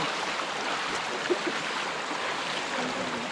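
A river stream at Tukuran Falls, Puerto Galera rushes in a steady, close, broadband wash of flowing water.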